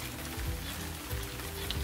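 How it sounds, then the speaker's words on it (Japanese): Spray bottle misting water like rain over tree frogs, a soft steady hiss of fine droplets pattering with faint pulses, close and continuous with no talk. "今から霧吹きでね、上から雨みたいに降らしてみましょうかね"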